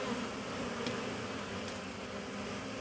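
A honeybee swarm drones steadily as the bees move down into a hive of empty frames, a dense, continuous buzz that stays close and even throughout with no talking.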